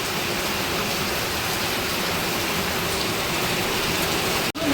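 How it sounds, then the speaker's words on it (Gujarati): Cold, heavy rain pours down in a dense, steady hiss with no pause, close and loud, cutting out abruptly near the very end. "જો આવો ઠંડો વરસાદ"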